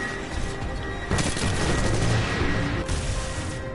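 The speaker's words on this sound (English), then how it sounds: "Grenade in the hole!" Dense, loud gunfire and a booming grenade blast in Titanfall 2 fill the whole stretch, with sustained rattling shots and a heavy burst near the middle and another near the end.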